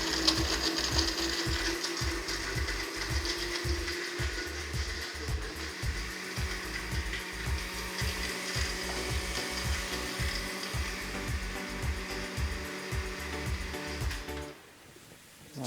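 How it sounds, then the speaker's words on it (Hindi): Blender crushing ice into a green drink, a loud steady motor whir with rhythmic grinding knocks from the ice that runs almost without a break and then cuts off abruptly near the end. "ब्लेंड करेंगे और बस फ़ौरन हमारी ड्रिंक भी रेडी हो जाएगी"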